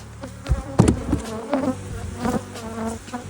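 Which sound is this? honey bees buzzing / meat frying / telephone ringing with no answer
honey bees buzzing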